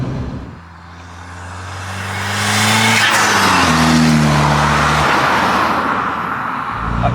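A SEAT Ibiza FR TDi diesel track car, tuned to 250 bhp, approaches with rising engine drone, then roars past close and loud, its pitch dropping as it moves away.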